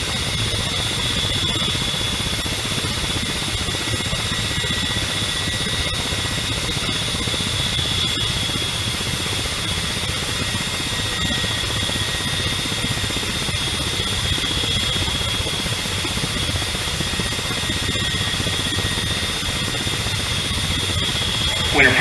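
Ka-50 Black Shark helicopter engine in a flight simulator game, a steady close turbine whine and rotor rumble running continuously with no breaks.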